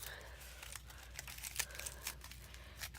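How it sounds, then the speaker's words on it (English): Tinfoil is crumpled and torn by hand while shaping a dinosaur armature, making faint, close crinkling and crackling bursts scattered irregularly over a low background hum. "you can then tear with your fingers the parts of the tinfoil that you no longer want"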